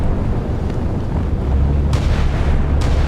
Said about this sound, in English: That naval gun blasting away